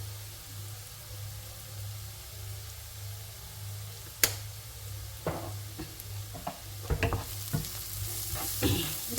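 Lamb stew ingredients with paprika and mixed herbs sizzle in a pot, a low steady fry with a hum beneath, broken by spoon scrapes and stirring clatters that grow busier toward the end.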